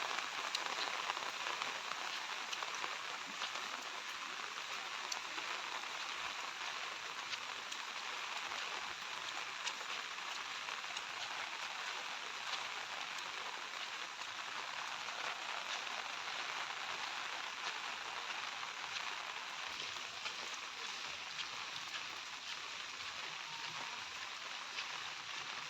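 Steady heavy rain pours down continuously, a dense hiss of drops on surfaces with no other sounds standing out.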